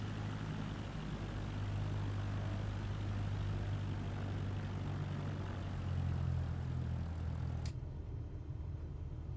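A Cessna's propeller engine taxiing in Microsoft Flight Simulator 2024 drones steadily with a low hum and broadband roar, close and continuous, cutting off abruptly near the end.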